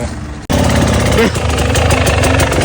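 Motorcycle engines run loud and steady on a trail ride, a continuous close mechanical drone after a brief quiet start, with voices talking over it.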